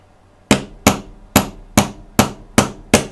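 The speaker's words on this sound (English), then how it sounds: "I've got a soft top hammer here, and we'll just give this a little tap right here." A soft-faced hammer taps a plastic part of a 1:24 scale AT-ST model kit seven times at a steady rhythm, each sharp close knock decaying quickly, with no talk in between.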